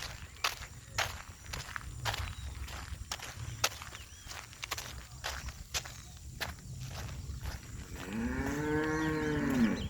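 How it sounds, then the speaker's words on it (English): Cows moo on a city street in Georgetown's East Ruimveldt area, a few low calls heard outdoors over footsteps and street ambience, with one long, loud, close moo at the end. "A couple of cows."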